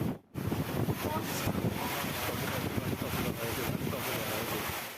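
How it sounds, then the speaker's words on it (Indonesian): Strong wind and heavy rain lashing a wedding party tent in a village in Ponorogo, East Java, as a loud continuous roar of gusts and pelting rain with buffeting on the microphone, briefly dropping out near the start. "rekaman video detik-detik tenda pengantin diterjang hujan deras disertai angin"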